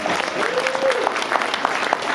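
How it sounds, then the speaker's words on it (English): Audience applause at a panel event, a steady crowd clapping with sharp individual claps standing out, while a faint voice carries briefly over it. "Let's give her a round of applause."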